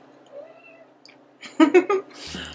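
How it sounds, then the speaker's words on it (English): A pet cat meows for food in a home kitchen while flourless pancakes are served, giving a few quick, fairly loud close chirping meows after a quieter stretch. "I'm gonna go feed my cat because she's calling me."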